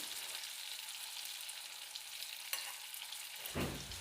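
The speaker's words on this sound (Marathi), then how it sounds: "हे कारले आपण तेलात चांगले असे फ्राय करून घेतलेले आहेत" Stuffed bitter gourds fry in hot oil with a steady, even sizzle throughout, a faint clink near the middle and a louder stirring scrape near the end as the pieces are turned.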